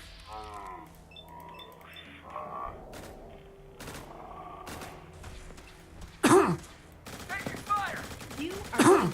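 Brotherhood soldiers open fire in Fallout 4: after a stretch of quieter game noise and talk, loud sharp bursts of gunfire hit near the end, close and harsh, with voices in between.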